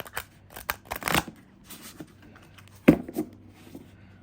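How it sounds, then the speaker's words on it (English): Tarot cards being shuffled by hand, with two bursts of riffling and rustling and a few soft taps and flicks between them, close and moderately loud in an otherwise quiet room with no talking. "Shuffle's really good like that too."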